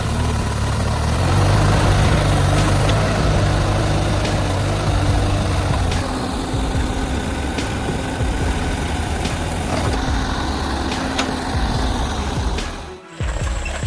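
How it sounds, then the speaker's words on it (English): A heavy, heavily loaded logging truck's engine drones loudly and continuously, a deep low rumble that eases slightly partway through, with a brief sharp thump near the end. "From afar, the powerful roar of the engine echoed, signaling the appearance of a mighty savior."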